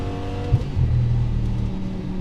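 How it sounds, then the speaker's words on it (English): An early Audi R8 V10 with an aftermarket exhaust roars under hard throttle, heard from inside the car with the window down, a deep loud rumble swelling after a sharp burst. "Every single time I stomped on the gas pedal and heard that V10 engine roar"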